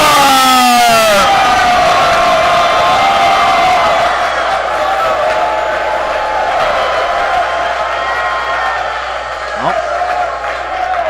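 Loud crowd roar at a varsity high school hockey tournament final in an arena, a broad sustained cheer with whoops over a stretch of yelling, fading slightly but staying dense throughout.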